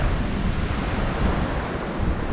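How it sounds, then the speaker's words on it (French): A waterfall on Santa Maria in the Azores roars as a loud, steady broadband rush, close by and unbroken, with wind buffeting the microphone. "la cascade, elle est juste derrière, là"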